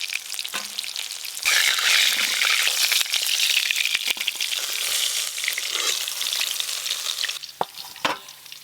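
Boal fish pieces frying in hot oil, a loud, dense sizzle and crackle close by, continuous with occasional sharp pops and taps.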